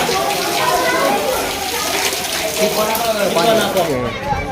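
Water pours down from above, gushing and splashing steadily throughout at Khodiyar temple, Amrutvel, loud and close, with voices talking over the rush.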